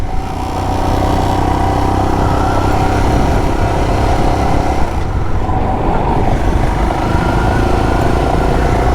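The engine of a Royal Enfield Himalayan motorcycle runs steadily while riding, a loud, close, continuous droning thrum with wind rush and no talk.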